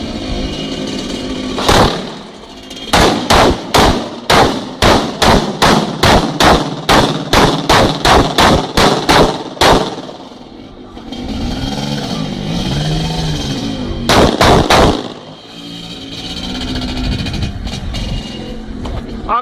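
An AR-15 rifle is fired from a moving vehicle in a rapid string of loud, sharp shots, then a pause and a few more shots over a rumbling engine.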